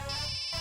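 Phone ringtone sounding steadily at close range, a bright repeating electronic melody with sustained tones and a short pause partway through, no voices over it.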